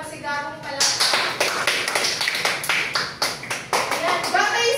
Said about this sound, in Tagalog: Bigyan natin si Juliana ng masigabong palakpak